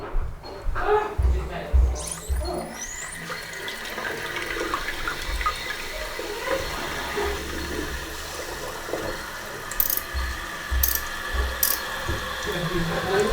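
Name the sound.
toilet cistern refilling through SIAMP filling valve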